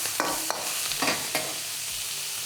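Prawns stir-frying in hot oil in a wok, a dense continuous sizzle broken by a few sharp stirring scrapes, close and steady with no talking.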